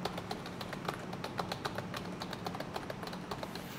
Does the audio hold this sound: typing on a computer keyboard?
yes